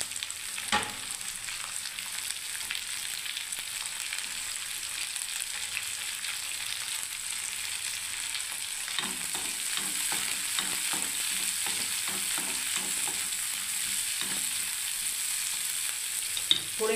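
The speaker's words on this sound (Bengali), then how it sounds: "এবারে বন্ধুরা পেঁয়াজ দিয়ে দিচ্ছি আমি ভাজার জন্য" Onions fry in a pan for a flatbread filling, giving a steady close sizzle with frequent scraping and stirring clicks, louder and busier in the second half; no talking.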